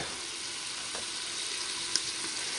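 Garlic sizzles and fries in hot oil in a jambalaya pot, a steady broadband crackle holding at an even level throughout, with a few faint pops and clicks over the constant hiss and no talking.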